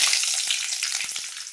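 Mustard seeds, a piece of asafoetida and a sprig of curry leaves hiss in hot oil for tomato thokku, a constant, close, bright sizzle with a few faint pops and spoon scrapes, no voice.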